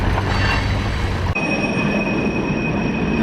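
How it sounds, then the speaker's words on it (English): A passing train near the tracks gives a loud, dense roar of rolling railcars that abruptly cuts to a quieter rumble with a lingering high squeal, heard alone without talk. "And there's the train."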